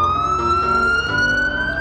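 A wailing ambulance siren from the Upin video game, a steady sustained tone slowly rising in pitch, loud and close with no talk over it.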